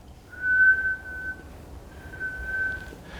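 A person whistles in imitation of a faint whistle, two long steady tones each lasting over a second with a short pause between, over quiet room noise.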